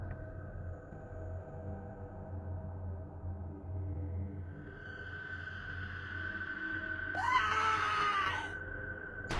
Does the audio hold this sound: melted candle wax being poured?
no